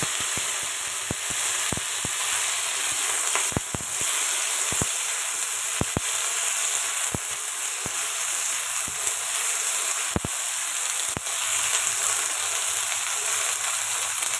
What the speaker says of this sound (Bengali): এবার আমি ঢেঁড়সটা দিয়ে দিচ্ছি।